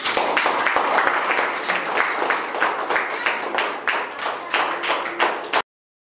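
Children and adults in a classroom storytelling and acting session clap loudly and continuously for several seconds, rhythmic and close, before it cuts off abruptly.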